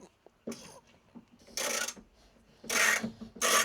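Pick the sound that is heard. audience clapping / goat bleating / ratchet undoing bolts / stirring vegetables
ratchet undoing bolts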